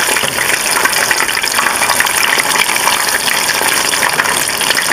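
Spoonfuls of hush puppy batter dropped off a fork into a pot of hot frying oil give a steady, dense sizzle and crackle that runs unbroken and fairly loud throughout.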